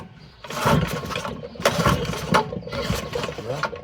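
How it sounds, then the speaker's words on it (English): A 1950s Briggs and Stratton model 6S small engine is cranked over by hand without starting. It gives several close, loud bursts of mechanical churning and ratcheting, with short pauses between the pulls. "make sure it's going to roll the engine over"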